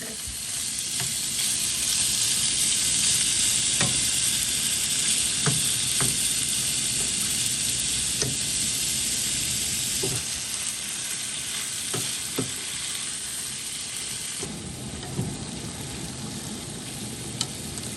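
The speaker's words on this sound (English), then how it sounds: "I am actually going to slightly brown the beef before I put them into these little pots" Beef sizzles steadily in small pots on a woodstove, a loud continuous frying hiss with scattered pops and crackles and the occasional clink of stirring.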